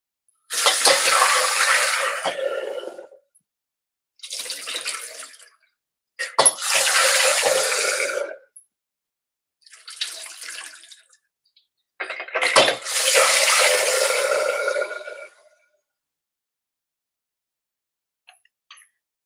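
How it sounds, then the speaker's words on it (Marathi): Water runs into a pressure cooker holding chickpeas, several close, broad splashing pours of two to three seconds each separated by short pauses, with no talking. "तर ह्यामध्ये मी पाणी जास्त घातलंय."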